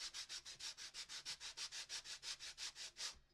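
Rhythmic back-and-forth rasping of sandpaper on wood, about fifteen even strokes, close and steady with no voices.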